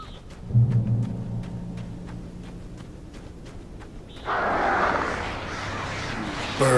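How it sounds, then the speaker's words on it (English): Crows caw in the game Alan Wake, a few short calls ringing out over a low ambient drone, with a louder rushing wash of sound arriving later. "Birds."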